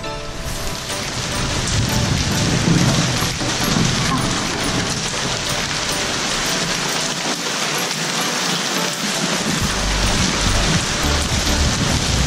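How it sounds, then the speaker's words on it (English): Heavy rain mixed with hail drumming steadily and loudly on a surface, a dense continuous patter throughout, with a voice briefly heard over it. "Oh, son of a bitch, it's hailing."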